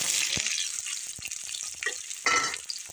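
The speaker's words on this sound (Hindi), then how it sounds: "तड़का लगाने के लिए ये देखिए हमने प्याज काट ली है थोड़ी सी," Chopped onions fry and sizzle in hot oil for a dal tadka, a close crackling hiss with a few stirring clinks, heard alone.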